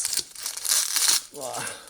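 Adhesive tape is ripped off a shipped parcel of trading-card sleeves, a harsh tearing and crinkling burst lasting about a second, followed by a short spoken remark.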